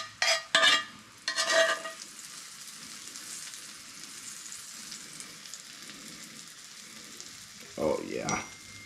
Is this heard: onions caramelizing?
yes